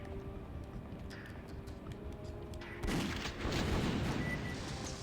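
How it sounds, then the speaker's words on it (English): Gunfire aimed at barrels in the Alien Trilogy video game on PS1, a steady run of soft shots swelling into louder bursting blasts in the second half. "Shoot these barrels too."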